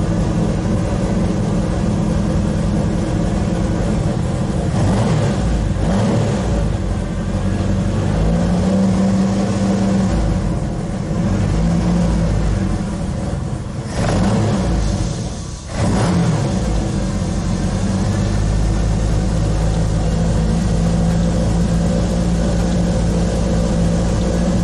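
A car engine fitted with Weber carburetors runs at a steady idle near 1000 rpm. The low, continuous rumble holds close and loud, with faint shifts in tone and a brief dip partway through.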